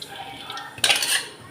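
A metal kadai pan clanks down onto a stove, a single bright clattering contact after a quiet moment, fairly close.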